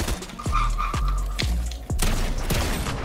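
Video game gunshots ring out in a rapid series of five or six sharp, booming blasts with ringing tails, loud and close.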